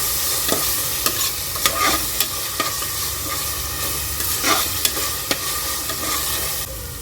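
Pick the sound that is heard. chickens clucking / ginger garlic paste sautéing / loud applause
ginger garlic paste sautéing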